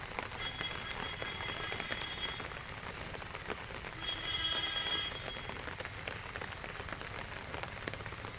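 Steady rain falls over the Kooriyad paddy fields along NH66 in Malappuram, a dense, even hiss of drops on wet surfaces that holds for the whole stretch and swells slightly midway, with no voices.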